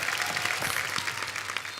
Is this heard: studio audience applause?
yes